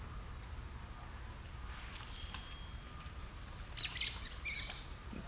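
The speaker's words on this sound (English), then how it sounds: "Birds fell out of a tree fighting." Faint, scattered bird chirps and sharp squawks over a low outdoor rumble, with a brief burst of agitated calls near the end as birds fight and fall out of a tree.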